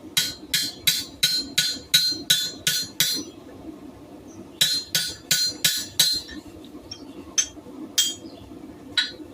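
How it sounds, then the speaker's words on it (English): Sharp metallic hammer blows on hot steel ring out in quick rhythmic bursts while forging a bottle opener, two runs of steady strikes separated by a short pause, then a few slower final hits. "Drop the tongs, grab the hammer."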